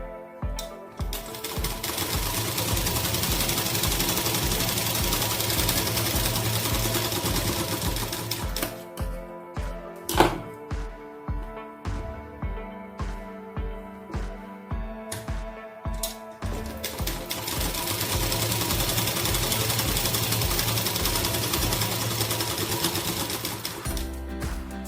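A sewing machine stitches half-inch darts on a princess-cut blouse, running in long fast bursts of rapid mechanical clatter that pause briefly mid-way for a few slower single stitches before speeding up again, loud and close.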